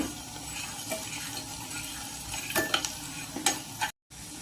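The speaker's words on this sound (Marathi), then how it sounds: "तेलसुद्धा मी तापून घेतलं त्यानंतर सर्वात अगोदर मी टाकला आहे कांदा कांद्यानंतर मी शेंगदाणेसुद्धा इथे टाकून घेतले आहे" Chopped onion and peanuts fry in hot oil while being stirred, a soft continuous sizzle broken by close scraping strokes of a spoon in the pan, ending with a brief cut to silence.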